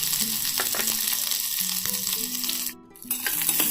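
Finely chopped big onion sautéing in a pan for instant tiffin sambar, a steady close sizzle with spatula clinks and scraping, briefly dropping quieter for a moment before resuming.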